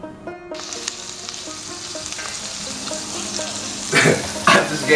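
Food frying in a pan, with a steady, loud sizzle that runs throughout and swells briefly near the end, alone with no voices over it.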